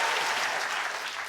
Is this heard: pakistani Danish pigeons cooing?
no